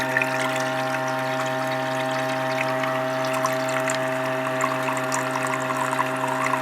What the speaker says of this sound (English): it is now trying to fill up the tank.